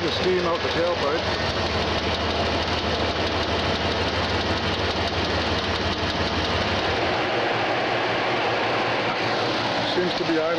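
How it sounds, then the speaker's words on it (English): A car engine idles steadily and loudly throughout, a continuous rumbling drone with a slight rhythmic knock and no other sounds. "Seems to be idling a lot better."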